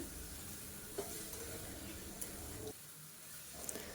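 Mutton sizzles in oil in a pan while being stirred for a potato mutton curry, a steady faint frying hiss with a few soft clicks of the spoon, no talking.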